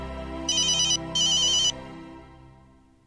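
Electronic telephone ring for an incoming call, two short trilling bursts over soft background music, fairly quiet and clear.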